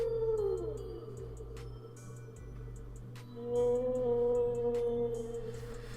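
A humpback whale call from an animal sound test: quiet, drawn-out tonal moans with harmonics and a few sliding pitches, separated by brief pauses and faint clicks.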